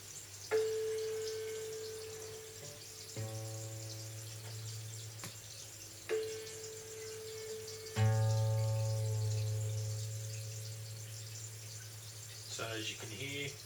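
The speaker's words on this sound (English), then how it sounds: "you hold the bass after you strike it, make it ring, and actually press it onto the body of the guitar" Acoustic guitar strings struck and left ringing one after another while tuning by ear, each pitch sustaining and slowly decaying, quiet and close with faint background noise.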